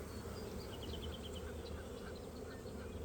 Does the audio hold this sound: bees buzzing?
yes